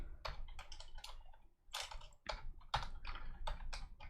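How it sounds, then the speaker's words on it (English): Clicky typing of code on a computer keyboard during a live programming session, quick irregular clusters of keystrokes with a brief pause midway, close and alone with no talk. "we'll type that out again"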